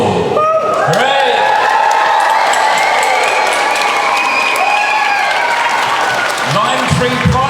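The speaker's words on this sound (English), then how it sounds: "So hopefully we can do a cheer for each of them." Loud, sustained cheering and applause from a school concert crowd fills the hall, with shouting voices and a speaker talking over the noise.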